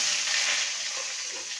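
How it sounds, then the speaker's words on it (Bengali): Potatoes and pointed gourd frying in mustard oil give a steady, even hiss of sizzling for a short stretch, close and without speech or stirring noise. "এবার আলু পটলকে ভেজে নেব।"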